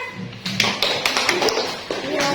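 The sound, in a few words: classroom clapping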